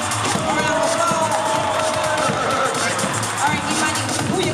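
A crowd applauds and cheers at a Christmas rhythm truck event, a loud, dense wash of clapping and shouting with voices mixed in throughout.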